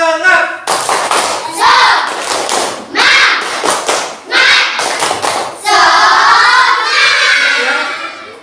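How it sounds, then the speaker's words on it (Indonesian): A classroom of students does a rhythmic spirit clap before a lesson, loud patterned claps and thumps mixed with the children's chanted, shouting voices in short energetic bursts, close and full. "tepuk semangat"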